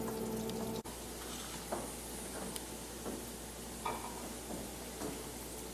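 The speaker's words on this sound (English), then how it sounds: "right now, this has to saute until it's like golden brown, just nice and sauteed" Chicken cutlets sauté in a pan, a steady broadband sizzle holding close and even throughout, with a few soft clicks and light stirring touches over it and one brief dropout near the start.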